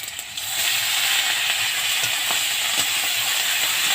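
Ingredients for a Bengali drumstick-flower bharta fry in a pan with a loud, steady sizzling hiss that holds evenly throughout, with faint crackles and no voices.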